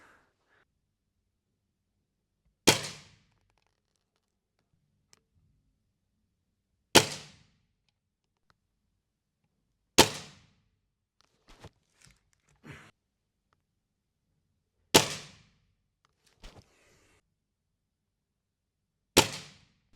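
Spring-powered air rifle, a Weihrauch HW77K or Hatsan 200W, fired five times at regular intervals, each a sharp crack with a brief twang, separated by quiet gaps with faint handling clicks.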